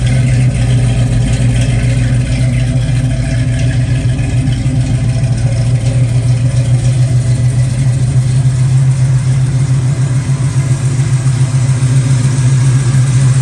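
A 1969 Camaro with a 454 engine and six-speed manual idles steadily outdoors on a cold day, a loud, even low rumble with a smooth, constant pulse and no revving.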